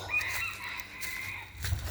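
A bantam rooster in a backyard flock of silkies and sebrights crows once, close and shrill, followed by a brief rustle or thump.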